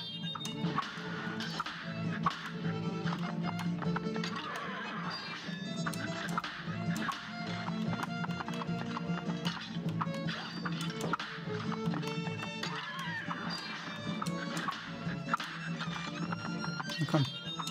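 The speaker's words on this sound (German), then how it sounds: "Pferd, dieser Gaul." Horse galloping with clip-clop hoofbeats and occasional neighs in the video game Cuphead, layered over busy game music and effects, with someone talking throughout.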